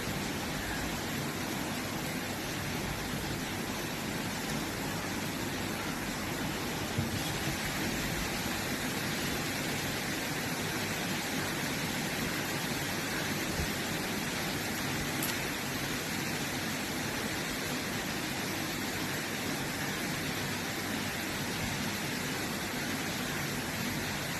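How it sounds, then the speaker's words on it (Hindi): A constant wash of heavy rain noise hisses without pause, steady and dense throughout. "बारिश के शोर से रिकॉर्डिंग में ना आवाज़ मेरी क्लियर नहीं जा रही होगी, तो शोर बहुत ज़्यादा है।"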